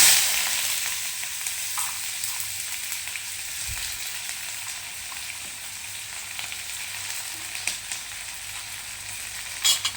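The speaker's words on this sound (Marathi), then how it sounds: "आता कांदा परतून घ्यायचा." Chopped onion sizzles in hot oil while being stirred, a steady close frying hiss with occasional scrapes and knocks of the spoon, continuous and without speech.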